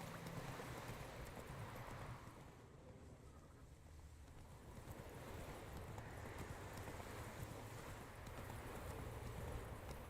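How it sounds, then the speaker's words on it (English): Roach the horse trots in The Witcher 3, hooves clip-clopping in a steady rhythm over a dense, rushing ambient bed of game sound, fairly faint and with no voices. "Whoa there, Roach."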